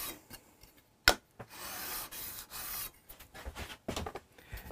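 A metal card scraper without a burr scrapes across wood during a guitar restoration, giving a few rough rasping strokes of uneven length with a sharp knock near the start, close and fairly quiet.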